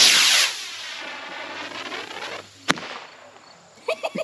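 A small model rocket launches on an A8-3 motor: a sharp ignition crack lands abruptly partway through, followed by faint hiss and a few quick distant pops.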